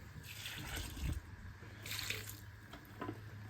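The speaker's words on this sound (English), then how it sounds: "Now we're going to add a little bit of water to them to make them a little bit more like soup" Water poured from a container into very full horse feed buckets to make a soupy mash, a splashing, gurgling pour running steadily for several seconds with a couple of louder surges, close by and with no talking.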